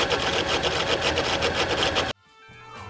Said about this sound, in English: If you were to turn the bike on and turn the throttle, the belt will either run into the wheel causing a noise like this